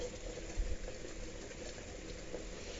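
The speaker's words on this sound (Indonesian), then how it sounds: "Kalau airnya udah bergolak ya, kita tutup biar cepat matangnya." Potatoes boil in a pot of water, giving a faint, steady bubbling and simmering hiss with no talking.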